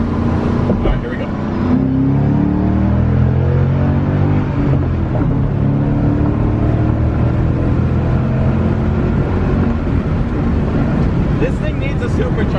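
A car accelerating hard through a pull, its engine droning loud and steady from start to finish with a rising, rumbling tone that runs continuously without a break.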